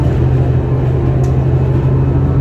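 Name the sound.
riding on a rough bus in New York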